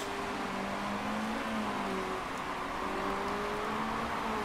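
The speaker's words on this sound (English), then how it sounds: "Other cars coming in for inters." Racing cars head into the pits in wet conditions, a distant steady engine hum with faint shifting tones carried under broad roaring noise, no talk heard.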